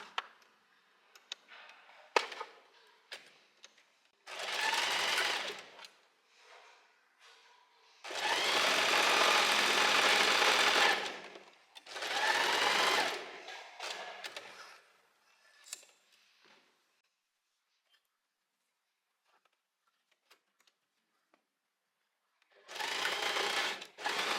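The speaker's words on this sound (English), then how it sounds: "once I get to the end here I'm just sewing out, and then I leave a few centimeters of thread on it" Sewing machine stitching a blouse with the stitch length set to 2.5, running in several close, loud bursts of rapid whirring, separated by quiet pauses and soft handling noises.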